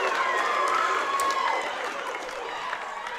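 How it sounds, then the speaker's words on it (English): Crowd in a gym cheering at a high school volleyball match between West Side and Declo after a kill shot, a broad steady roar of voices that eases slightly as it goes. "That gets the crowd fired up."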